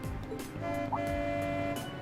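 A car horn honks in The Legend of Heroes: Trails of Cold Steel, with a steady sustained tone standing out over game music and background noise.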